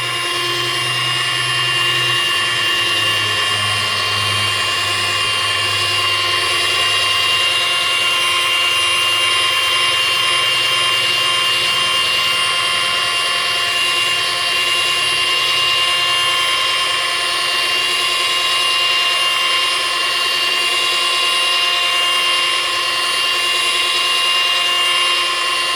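A machine polisher runs at slow speed, working polish into a boat's gel coat with a loud, steady whirring drone that holds unbroken throughout.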